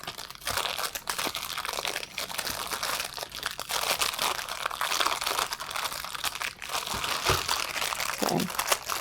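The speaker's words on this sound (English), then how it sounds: "it's probably best that we do break them up in a plastic bag" Maple-glazed pieces being crushed inside a plastic bag for a strawberry spinach salad, a steady, fairly quiet crinkling and crunching of plastic with small cracking snaps, continuous with no pauses.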